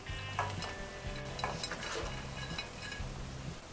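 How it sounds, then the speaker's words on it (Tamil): A spoon stirs a simmering vada curry with coconut milk, a soft bubbling sizzle under repeated scraping and light clinks of metal against the pot, fairly close and quiet. "வடையை குழம்போடு நல்லா கலந்துக்கோங்க"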